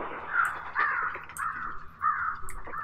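Crows caw repeatedly in the Hunt: Showdown video game, with about four harsh, close calls spaced through a short stretch over a low background.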